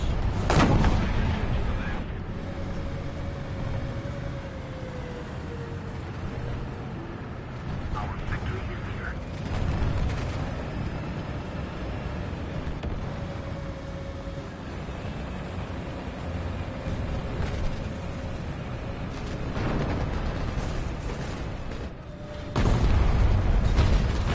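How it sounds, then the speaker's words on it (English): Rockets firing and exploding in a tank combat video game, with booming blasts and rumbling artillery-like impacts spread through the battle, someone talking throughout, and engine drone underneath. "That's a rocket."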